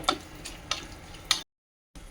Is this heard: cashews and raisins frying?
yes